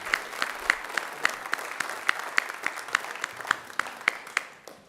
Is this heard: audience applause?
yes